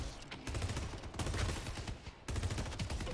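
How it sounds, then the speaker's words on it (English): Weapon fire in a Valorant match, a grenade launcher among the weapons, heard as dense rapid bursts of shots in two stretches split by a brief gap, loud and close over game ambience. "Yamada has a grenade launcher."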